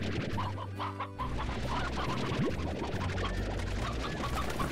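Chickens clucking in the video game Slime Rancher, several birds sounding in short repeated bursts over a steady game background hum, with a brief low tonal swoop partway through.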